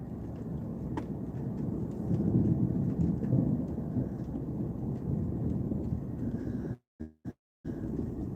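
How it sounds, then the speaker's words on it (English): Low thunder rumbles on and off through steady rain, swelling in the middle, with a few brief dropouts near the end. "Can you hear that thunder roaring, Charles?"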